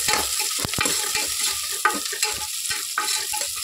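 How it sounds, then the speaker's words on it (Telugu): Sliced onions and green chillies fry in hot oil, a close, continuous sizzle broken by sharp spatula scrapes and stirring knocks at an uneven rhythm. "ఇదిగోండి కొంచెం పచ్చిమిరపకాయలు వేస్తున్నానండి. పచ్చిమిరపకాయలు కూడా వేసి బాగా వేసుకోండి."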